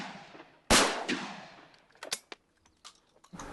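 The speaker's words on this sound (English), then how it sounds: "Clay pigeon shooting is quite difficult as it involves shooting a moving target" Sharp shotgun blasts at a clay pigeon shoot, one loud near report followed by several fainter, scattered cracks and echoing bangs across the field.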